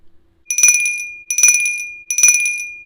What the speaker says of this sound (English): to ring that bell.